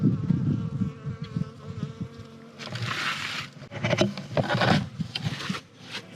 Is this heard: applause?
no